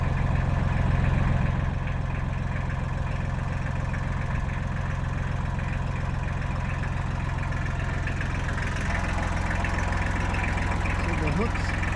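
A tractor engine idles with a steady, rumbling low drone and rhythmic chugging throughout, close by, with some talk mixed faintly underneath.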